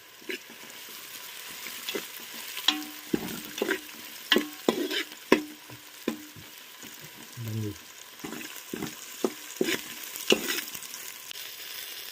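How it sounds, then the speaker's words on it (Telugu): Onions fry in a pan with three green chilies and bay leaves, giving a soft, steady sizzle broken by repeated clacks and scrapes of stirring, close by, with a voice talking over it at times. "ఉల్లిపాయలు లైట్గా బ్రౌన్ కలర్ వచ్చేట వరకు వేయించుకోవాలి. అందులో 3 పచ్చిమిరపకాయలు, కొన్ని బిర్యానీ ఆకులు వేసుకుందాం."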